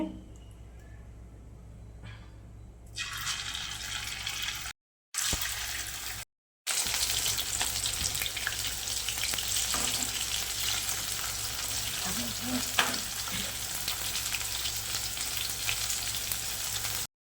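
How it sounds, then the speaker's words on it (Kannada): Bitter gourd frying in hot coconut oil, a loud, steady, dense sizzle that starts a few seconds in and carries on, with a couple of brief dropouts along the way. "ನಾನು ಪ್ರೊಸೀಜರ್ ಅದು ಎಣ್ಣೆಯಲ್ಲಿ ಹಾಕಿ ಫ್ರೈ ಮಾಡೋದು ಯಾವ ಥರ ಅಂತ ನಿಮಗೆ ತೋರಿಸ್ಕೊಡ್ತೀನಿ"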